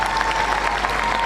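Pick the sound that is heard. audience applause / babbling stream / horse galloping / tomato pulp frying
audience applause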